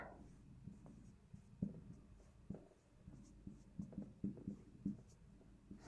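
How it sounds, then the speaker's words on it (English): A marker squeaks and taps faintly across a whiteboard in short irregular strokes, quiet against a low room hum. "let me write on the whiteboard"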